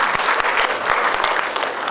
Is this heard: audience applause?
yes